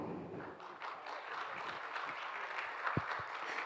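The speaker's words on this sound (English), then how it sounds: "Everyone would clap or no one would clap?" Applause from a conference audience during flash talks, a steady wash of clapping throughout at moderate level with no voices over it.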